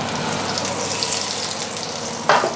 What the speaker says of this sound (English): I don't know if you can hear that sizzling there.